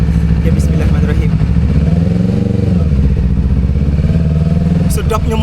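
A new motorcycle's engine idles and revs with a loud, rough rumble throughout, steady and close by.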